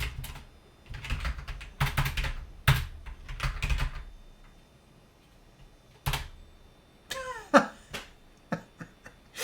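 Bursts of clattering keystrokes on an Acorn StrongARM RiscPC keyboard, close and crisp, come in uneven runs with pauses between, then a few scattered single taps and a brief squeaky scrape.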